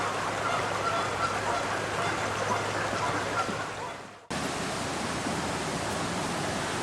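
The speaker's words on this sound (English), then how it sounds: "just listening to the sounds like the stream running, those honkers over there" Geese honk over the steady rush of a running stream at an outdoor nature center, the water noise constant and loud, cutting briefly before resuming.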